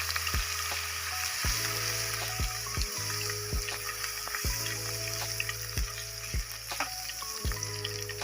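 Garlic ginger paste fries in hot oil, a steady close sizzle and crackle broken by repeated clunks and scrapes of a spoon stirring against the pan.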